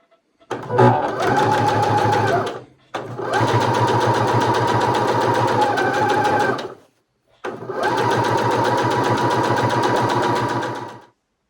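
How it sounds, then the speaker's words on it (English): A sewing machine stitches rickrack around the edge of a fabric Valentine's coaster, running in three steady whirring bursts of a few seconds each, separated by short pauses, loud and close with no talk. "Now we're going to take this to our machine and sew about 1/8 of an inch all the way around to hold that rickrack in place."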